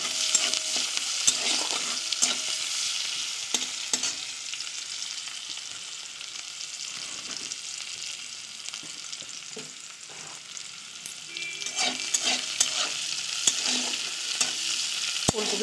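Sliced onions frying with whole cumin in a kadai for a potato and cauliflower curry, a steady sizzle broken by scraping stirs of a spatula, close and moderately loud with no voices.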